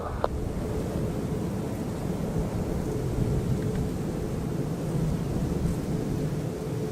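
An airliner takes off from a Hong Kong airport runway, heard as a distant, steady roar of jet engines with broad rumbling wind-like noise throughout.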